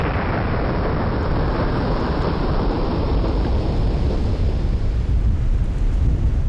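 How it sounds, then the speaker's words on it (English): Heavy thunderstorm with lightning over the Mekong River in Cambodia at the end of the rainy season: a continuous loud, broad rumble of thunder and pouring rain that fills the whole stretch and slowly softens toward the end. "lightning strikes the Mekong, marking the end of a long rainy season."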